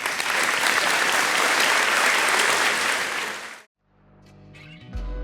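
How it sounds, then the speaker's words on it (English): Audience applause at a high school spring sports awards ceremony for tennis, dense and steady for about three and a half seconds before cutting off abruptly, leaving a quiet room with faint low noise. "Let's give these guys a round of applause."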